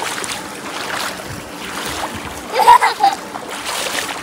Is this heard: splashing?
yes